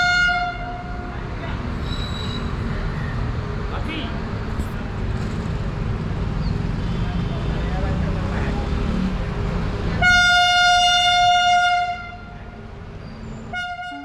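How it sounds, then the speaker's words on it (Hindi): A passing train near a temple in Haridwar sounds its horn in a loud, sustained multi-tone blast, then a second short blast, over the steady rumble of the rolling train wagons. "जो भी ट्रेन यहाँ से गुजरती है वो माता रानी को सलूट यानी हॉर्न मारकर नमन करके ही निकलती है"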